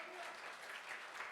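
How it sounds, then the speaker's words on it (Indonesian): A church congregation claps together in a dense, even wash of applause at moderate distance, sustained without break. "Tepuk tangan bagi Tuhan kita."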